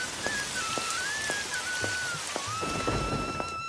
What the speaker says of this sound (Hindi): एक दिन बारिश आई, दुकान भीग गई।